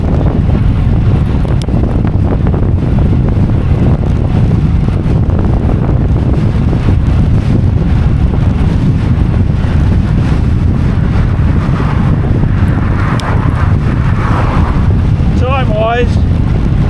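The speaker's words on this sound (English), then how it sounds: "I'm being buffeted by a hell of a wind from the left" Strong crosswind from the left while cycling a time-trial course on the Isle of Man, heard as constant loud, roaring wind buffeting the microphone with no let-up.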